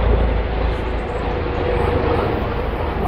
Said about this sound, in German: wie ihr hört, ist über mir irgendwo Hubschrauber.